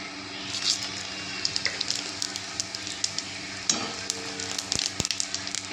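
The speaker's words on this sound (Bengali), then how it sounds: "তেলটা গরম হয়ে গেছে, এতে আমি ফোড়ন দিয়ে দেবো।" Whole spices tempering in hot oil, white cumin, dried chilli and bay leaf, give a dense close sizzle with crackling pops scattered through it, steady and without any voices.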